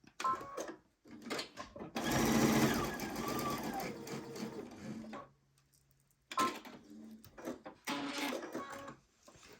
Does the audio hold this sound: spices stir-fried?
no